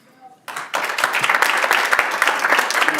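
Applause breaks out in a city council chamber after a public-input speaker finishes, a dense steady patter of many hands filling the room after a brief quiet start.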